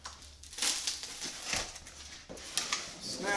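Garage door insulation panel being cut, close crinkling and crunching of foam and facing in a few irregular bursts, fairly quiet.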